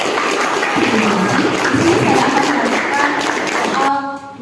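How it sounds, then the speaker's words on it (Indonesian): An audience in an Indonesian teachers' mentoring session gives a burst of loud, dense applause that holds steady for a few seconds and then drops off abruptly as a voice returns. "Oke, beri aplaus dulu untuk Pak."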